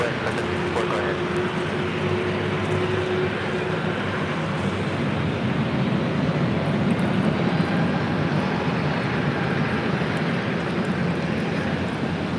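A Southwest Airlines jet in Arizona livery takes off at LAX, its loud, steady engine roar filling the whole stretch.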